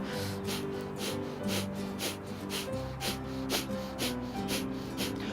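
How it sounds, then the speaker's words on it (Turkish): Rapid, forceful nasal exhalations of breath-of-fire yoga breathing pulse in a quick, even rhythm of about three per second over soft background music. "hep beraber kısa ve sıkı ateş nefeslerine başlıyoruz"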